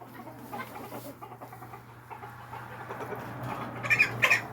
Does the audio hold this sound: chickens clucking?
yes